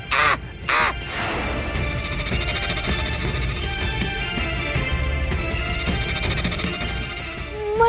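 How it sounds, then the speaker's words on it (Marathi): A crow caws loudly, with two sharp, close caws at the start, then keeps calling more faintly over a steady background hum. "कावळा किती ओरडते हो"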